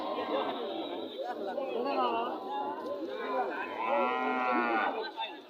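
Cattle moo at a busy rural cattle market, several drawn-out, loud lowing calls close by under a murmur of crowd chatter.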